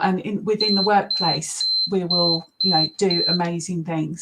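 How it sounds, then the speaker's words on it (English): A smoke alarm beeps in a steady high-pitched run of repeated chirps, running beneath a person's continuous speech and briefly heard alone in a pause. "So that's my alarm going off actually"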